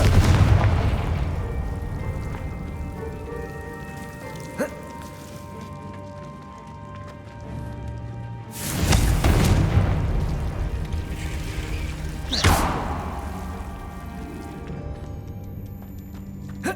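Confringo fire spell blasts in Hogwarts Legacy land as booming explosions, two strong bursts about four seconds apart following an earlier, quieter one, each trailing off into a crackling rumble.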